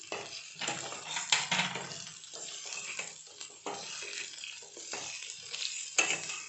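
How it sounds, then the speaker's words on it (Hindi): Spicy rice balls coated with red chili powder are stirred in a pan with a little oil, producing repeated scraping strokes and soft sizzling in bursts, close and clear, with no talking. "और इसको अच्छी तरह से हिला लेते हैं।"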